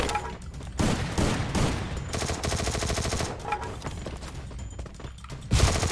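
Rapid bursts of gunfire in the Free Fire video game crackle in dense volleys with short gaps between them, along with reload clicks and a loud final shot near the end.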